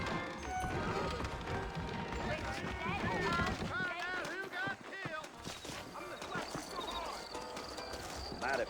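Horses clip-clop along at a steady run in the Western game Red Dead Redemption, hooves thudding and clattering under music and ambient noise, with talk heard over the top.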